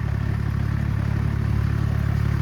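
An Eicher tractor engine chugs steadily during potato sowing in a field, a close, even diesel thrum with a regular low pulse and no talk.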